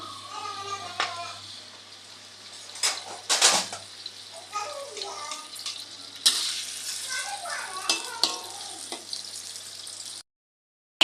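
Hot dog sausages, also called French sausages, fry in a pan with a soft, crackling sizzle through the clip. Sharp spits and pops are mixed in, and a voice talks over it before the sound cuts to near silence.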